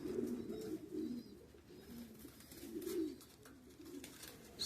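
Pigeons at a pigeon show give repeated low, throaty coos in rolling bursts, close and fairly soft, with quiet background noise and no talking.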